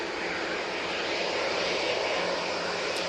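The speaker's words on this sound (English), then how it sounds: "And that Jet2 is off to Middlewing." A Jet2 airliner departs Manchester Airport with a steady, loud broadband jet roar that holds constant throughout, with no voices.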